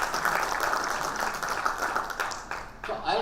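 A conference audience applauds steadily in memory of someone, a soft diffuse patter of many hands clapping, with voices murmuring underneath.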